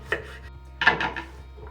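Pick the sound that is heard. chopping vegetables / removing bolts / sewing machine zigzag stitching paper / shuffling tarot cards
chopping vegetables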